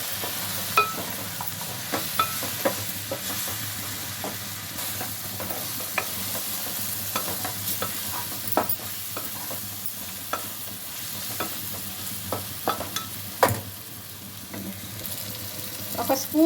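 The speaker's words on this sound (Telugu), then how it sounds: "ఒకటి మొత్తం కలుపుకోవాలి." Chicken curry with garam masala, chili powder and coriander powder stirred in a pan, a steady low sizzle broken by repeated scraping clicks and knocks of the spoon, close and fairly quiet, with no voices.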